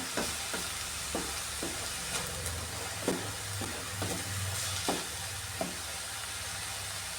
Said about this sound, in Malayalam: ഈ ഉള്ളി ഈ ചെറിയ രീതിയിൽ ഒന്ന് വഴറ്റിയെടുക്കാമേ